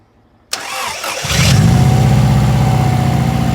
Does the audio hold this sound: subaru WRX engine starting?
yes